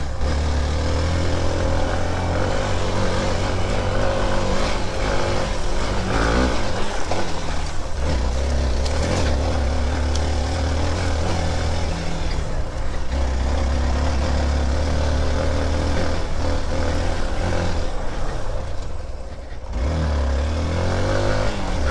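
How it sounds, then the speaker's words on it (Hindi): Hero Xpulse Rally Edition motorcycle climbs a steep uphill stretch, its engine pulling steadily and loud throughout with shifting revs and a brief dip near the end, heard close from the rider's position. "तो चलिए अभी देखते हैं ऊपर का स्ट्रेच कैसा लेता है ये बाइक। स्टीप हिल,"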